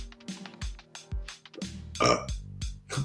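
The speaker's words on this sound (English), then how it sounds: "Like a burp." A burp rises out of a quiet, intimate setting, a low guttural eructation near the middle, with soft breathy sounds and small bursts before and after.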